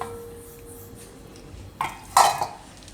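Soybean flour and semolina batter is mixed in a bowl, with quiet scraping and then a couple of sharp metallic clinks of a spoon against the bowl near the end, no voices.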